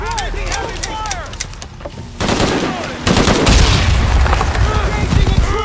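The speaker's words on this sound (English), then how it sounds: "Heavy fire." Heavy gunfire in Shadow of the Tomb Raider: dense bursts of automatic fire and booming shots pile up and grow louder, with voices talking through the barrage.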